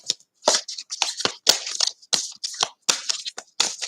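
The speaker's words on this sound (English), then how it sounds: "So I'll just do a little shuffle." Tarot cards being shuffled by hand, a run of crisp papery riffles and slaps in quick irregular bursts, close and distinct with brief silences between.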